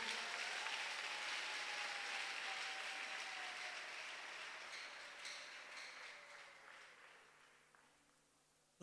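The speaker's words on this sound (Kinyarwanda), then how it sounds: "Imana amashyi" Applause fills a church, a broad steady clatter of many clapping hands that slowly thins and fades toward the end, with a faint tone sustained underneath.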